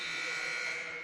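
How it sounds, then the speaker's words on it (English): A steady, loud electronic final buzzer at a high school boys' basketball game drones continuously for the whole clip, a harsh sustained tone with no breaks. "That is the final buzzer."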